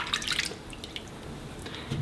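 Water being poured off a container of sprouting seeds, heard as soft close drips and trickles with a brief splashy burst at the start, then faint and intermittent.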